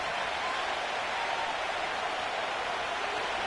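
A football stadium crowd at an NFL game roars steadily on a third down near the goal line, a dense, loud wash of cheering and noise that holds without a break.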